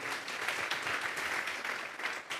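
A church congregation at a Spanish-language service claps together in a sustained round of applause offered as praise, a dense and even wash of many hands at moderate volume.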